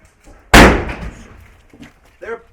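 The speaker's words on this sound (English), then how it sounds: "they're throwing grenades in" An airsoft grenade bursts with a sharp, loud pop at an outdoor airsoft game on an abandoned air force base. Brief faint voices follow as the noise decays.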